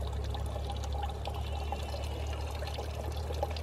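Water pours steadily into a medieval-style copper brewing kettle for hopped beer, a continuous splashing, gurgling stream heard up close without talk.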